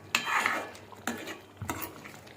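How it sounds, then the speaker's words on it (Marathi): Metal pot lid lifted off a pan of simmering paneer curry in a home kitchen, giving a few sharp metallic clanks and scrapes spaced across a couple of seconds, close and fairly loud. "तर आता आपण हे झाकण काढूया।"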